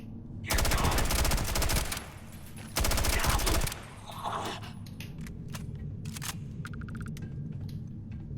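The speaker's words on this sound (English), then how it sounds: "I will say this AK feels better than most other weapons" AK rifle fire in the sci-fi game Starfield, two loud sustained full-auto bursts of rapid rattling shots, followed by quieter clicks and handling noises over a low background hum.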